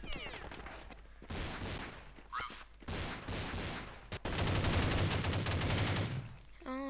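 Rapid bursts of automatic gunfire in the video game Counter-Strike, dense and loud, with sustained volleys and short pauses between them, while someone shouts excitedly over the shooting.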